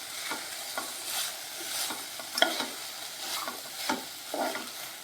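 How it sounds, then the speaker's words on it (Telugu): Vegetable curry of cauliflower, peas and tomato is stirred in a pan after coriander is added, with a spoon scraping in repeated soft strokes over a faint sizzle, close and quiet. "ఇలా కొత్తిమీర యాడ్ చేసుకొని మిక్స్ చేసుకుందాం"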